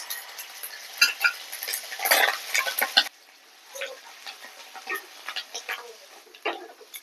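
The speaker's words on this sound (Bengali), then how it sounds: "যতক্ষণ না পেঁয়াজের গন্ধ যাচ্ছে ততক্ষণ নেড়ে নেব।" Onion paste being stirred with cardamom, pepper and cloves in a frying pan, a spoon scraping and clinking in irregular strokes over a soft sizzle, close and moderately loud, quieter after a few seconds.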